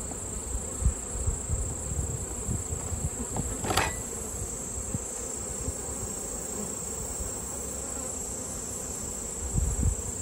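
Honey bees buzz around a hive during bulk feeding, a dense continuous insect hum with one individual bee passing close by, plus a few faint handling knocks.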